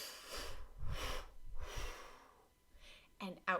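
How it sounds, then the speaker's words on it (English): Three deep breaths drawn in and let out over a short span, each a long airy rush in a slow, steady rhythm, close and fairly loud, followed by a pair of brief sharp sniffs at the end. "breathe in"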